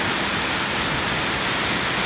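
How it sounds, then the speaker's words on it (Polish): Waterfall in the Swiss Alps near Kandersteg, heard from a via ferrata above, a steady broadband rush of falling water filling the whole clip without a break, loud and unvarying, with no voices. "W dole pięknie spływający wodospad"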